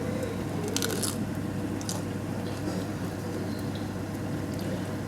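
Crunchy bites into a breaded, rolled sandwich-bread snack, a few crisp crackling bursts near the start over a steady low background hum, with no talk.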